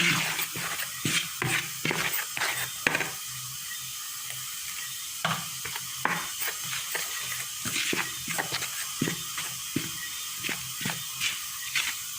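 A spoon scrapes and clacks through spinach dumpling dough in a bowl, a rapid irregular series of sharp close ticks and scrapes over a faint sizzling background.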